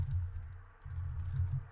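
Quick bursts of typing on a computer keyboard, close and clear, with two runs of rapid key clicks split by a short pause and no talking.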